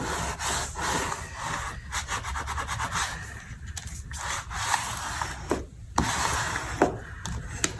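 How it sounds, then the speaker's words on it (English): Paper gift bag flaps are folded over and burnished by hand, giving soft, close rubbing and scraping strokes in an uneven rhythm with a few sharper creasing swipes. "I fold these over and burnish."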